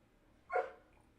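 A young shepherd dog gives a single short whine-like bark, fairly close and moderate in volume, over quiet room background.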